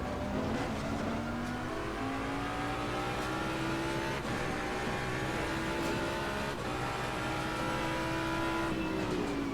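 A race car engine in the video game Assetto Corsa Competizione drones loud and steady through a race, its pitch rising and falling with gear shifts and braking, with no talk over it.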